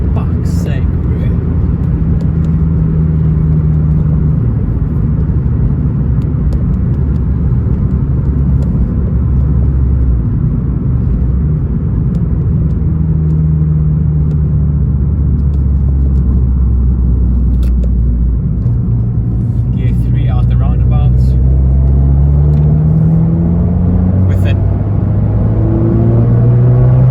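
An Abarth 595 turbo car accelerates hard through the gears from inside, its loud engine drone climbing in pitch, dropping at each shift and climbing again, steady and continuous throughout.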